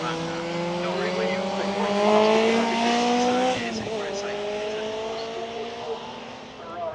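Ferrari race car at the Brands Hatch circuit during an Italian festival race meeting, its engine note rising then dropping sharply as it passes close by, with a brief tire squeal and a commentator talking over it.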